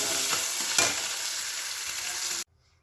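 Fish curry with spices cooks in a pan, a close, steady sizzle with a few scraping stirs, then cutting off abruptly into near silence.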